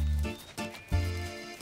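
A horse whinnies in short, throaty bursts, a low, harmonic call rising and falling close by, with no talking.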